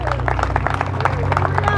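A church congregation claps in quick, rhythmic bursts, close and lively, while a voice and steady low tones carry on underneath.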